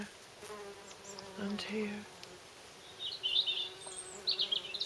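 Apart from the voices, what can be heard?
carder bee buzzing on plants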